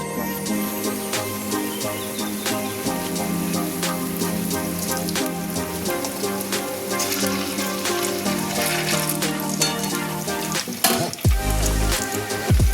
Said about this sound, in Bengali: এমনি করে কিন্তু আমি পর সবগুলো বড়া এইভাবে ভেজে নেব।